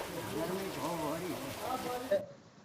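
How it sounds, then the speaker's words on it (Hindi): Heavy rain pouring down during a downpour in Mewat, a dense steady hiss with a few louder drops, cutting off near the end. "इतना अच्छा जो बारिश हो रहा है"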